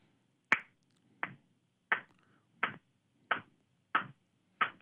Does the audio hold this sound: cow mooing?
no